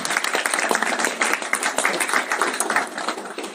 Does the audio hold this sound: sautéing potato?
no